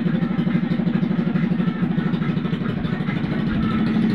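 Motorcycle engine idling during a New Year celebration, a loud, close, steady low throb with rapid regular pulsing that holds for the whole stretch, slightly easing near the end.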